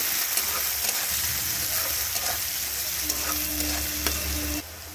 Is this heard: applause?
no